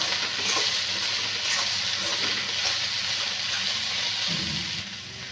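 Stuffed-karela spice mix of coriander powder, turmeric and garam masala sautéing in a hot pan, giving a steady close sizzle with light stirring scrapes throughout, no talking.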